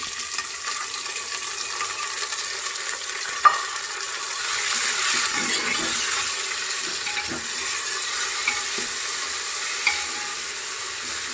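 Onions fried golden with tomatoes and finely chopped green chillies for masala pulao, a steady close sizzle running throughout with a few sharp utensil clinks and stirring scrapes.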